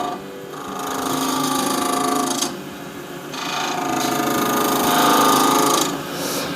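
A carbide lathe tool cuts into hard burl on a spinning lathe, giving a continuous rough scraping and cutting noise in two sustained passes with a short dip between them, close and fairly loud.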